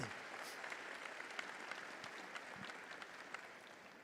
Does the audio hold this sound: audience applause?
yes